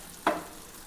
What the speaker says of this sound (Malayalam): അപ്പോൾ നമ്മുടെ മത്തി വറുത്ത് റെഡി ആയിട്ടോ.